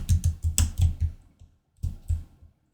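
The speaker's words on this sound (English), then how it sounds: "I'm going to type in all caps" Typing on a computer keyboard, entering text in all caps: a quick run of loud, close key clicks with a slightly uneven rhythm, then a short pause before two final keystrokes.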